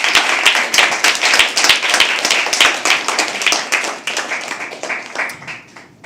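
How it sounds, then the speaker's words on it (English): Audience clapping after a poetry reading at a live open mic, a dense burst of many hands that stays strong and steady for several seconds before thinning out and fading toward the end. "Thank you for clapping"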